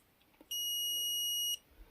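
A multimeter's continuity tester emits one steady, high-pitched electronic beep lasting about a second while probing a capacitor on a set-top box circuit board, close and clear against a quiet background.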